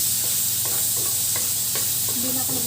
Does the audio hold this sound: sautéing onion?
yes